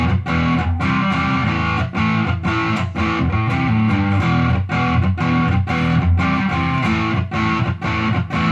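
Electric guitar played through the neck-position Hot Rails pickup of a 2017 Mexican-made Telecaster, strummed chords ringing loud and full with rhythmic attacks and short breaks, no talking.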